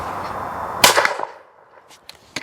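A single shotgun blast fired at a clay target cracks sharply outdoors and rings off in a fading tail, followed by a few faint clicks and small knocks.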